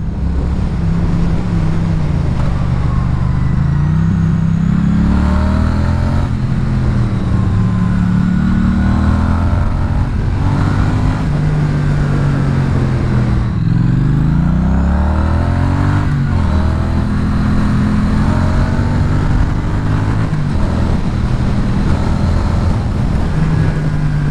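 A Triumph Street Twin motorcycle on the road with its stock exhaust, the twin-cylinder engine revving up and dropping back through gear changes, loud and close, with wind rushing steadily over it and no talk.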